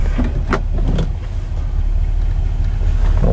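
A 1966 Cadillac DeVille convertible engine idles with a steady low rumble that stays loud and close throughout, and a few brief brighter transients break in near the start.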